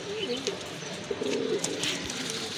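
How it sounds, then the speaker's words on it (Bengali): A pair of red tiger house pigeons with feathered feet coo softly in a few low, rolling phrases over faint background noise. "খুবই সুন্দর এক জোড়া কবুতর"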